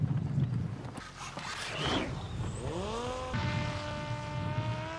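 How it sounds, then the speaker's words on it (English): A Ukrainian reconnaissance drone flies over enemy territory, its steady propeller drone humming at a distance and shifting in pitch as it passes. "Ukrainian drone flies deep in the enemy territory and gets spotted."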